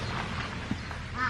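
Coots at Brown Moss nature reserve give a couple of short, sharp, nasal calls, fairly close, over quiet outdoor ambience.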